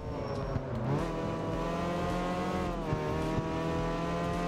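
A car accelerating in the CarX Street racing game, its engine note climbing in pitch, dropping at a gear shift and rising again, loud and close with no voices.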